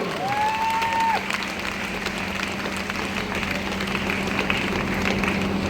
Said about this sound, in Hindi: के लिए जोरदार ताली।